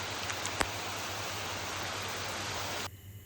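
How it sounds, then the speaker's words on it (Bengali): Heavy rain pours down in a steady, loud, broadband roar with one sharp knock early on, then cuts off abruptly near the end to a quieter background. "ঝমঝম করে বৃষ্টি পড়তে লাগে"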